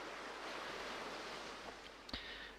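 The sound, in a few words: ocean waves at the beach, from video game Honkai Impact 3rd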